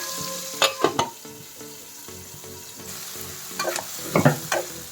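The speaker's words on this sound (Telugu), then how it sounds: "సన్నగా తరిగి పెట్టుకున్న ఉల్లిపాయలు, అలాగే పచ్చిమిరపకాయలు ఇవన్నీ వేసి మగ్గించుకుందామండి. బాగా వేగనిద్దాం." Thinly sliced onions and green chillies fry in a pan, a soft steady sizzle broken by two clusters of scraping, clattering stirring strokes near the start and end, with no voices.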